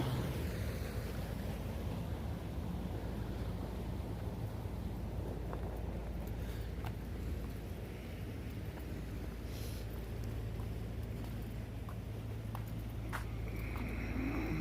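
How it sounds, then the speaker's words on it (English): Steady rushing water roars continuously at a distance as it pours into a culvert at Louellen Lake where a whirlpool has opened, mixed with wind buffeting the microphone and occasional faint clicks. "Water's rushing into that culvert over there."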